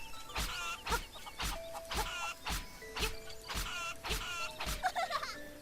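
Cucco hen in the Link's Awakening video game clucking in a steady run of sharp, repeated squawks after being struck, the game's chiptune clucks evenly spaced and moderately loud.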